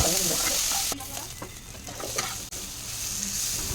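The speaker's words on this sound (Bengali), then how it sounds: "তারপরে লবণ ও হলুদ দিয়ে কিছুক্ষণ নাড়িয়ে চাড়িয়ে ঢাকা দিয়ে দেবো।" Eggplant pieces fry in oil in a kadai with a steady, close sizzle, while a spatula stirs and scrapes them, giving a few sharp knocks against the pan.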